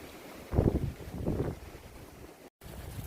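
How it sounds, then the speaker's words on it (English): Gusts of wind buffet the microphone in Kuşadası, Turkey, in two low rumbling bursts, then settle into a quieter breezy hiss, with a brief dropout near the end. "Wind's picking up a bit."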